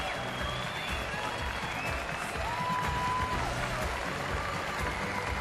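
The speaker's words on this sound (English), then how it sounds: "the Alexandra Palace crowd rose as one to salute Ali Carter's courage and to celebrate his recovery" A large snooker crowd at Alexandra Palace gives a sustained ovation to Ali Carter at the Masters, dense steady applause filling the hall throughout, with faint voices mixed in.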